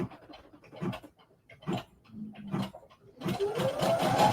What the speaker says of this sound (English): I want to stitch that part again.